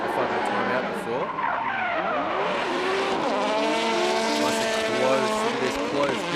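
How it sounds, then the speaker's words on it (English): Drift cars at a competitive drifting event in Okayama, one a Toyota JZX100, skid close together with loud, sustained tire squeal and sweeping engine whine, continuous through the run with a commentator talking over it. "Close drifting"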